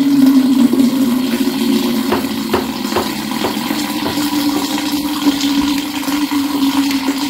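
Water gushes steadily out of a small coconut freshly cut open with a sickle in a village farm setting, a continuous close splashing pour without break.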